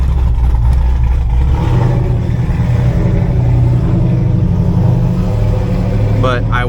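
A Camaro with a misfire problem hums and rumbles steadily from the cabin as it is driven around the block, a low, even engine drone at moderate loudness with someone talking over it.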